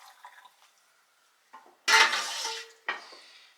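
A stainless steel one-cup ladle clinks against pots and jars while bone broth is scooped for pressure canning on an off-grid range, with a loud splashing pour in the middle and a second shorter pour near the end.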